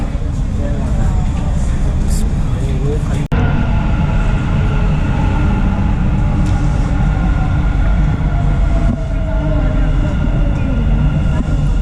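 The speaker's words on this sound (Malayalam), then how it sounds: "എക്സ്പോ 2020 ട്രെയിനാണ്. ഈ ട്രെയിനിൽ കയറിയാണ് നമ്മൾ അടുത്ത സ്റ്റോപ്പായി മോൾ ഓഫ് എമറേറ്റ്സിലേക്ക് പോകുന്നത്." Loud, steady rumble of a Dubai Metro train at a station platform, with a brief dropout partway through and murmured voices beneath the continuous mechanical roar.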